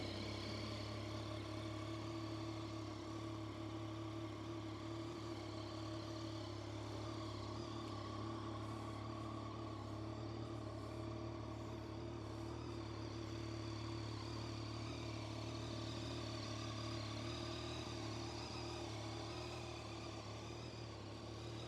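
Yamaha Tracer 900 motorcycle with 30,000 km on it, engine idling steadily with an even mechanical clatter, close and continuous, no talk.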